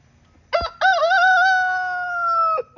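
A rooster kept in a backyard coop crows once, close and loud, in a long drawn-out call lasting about two seconds. A short squawk comes first.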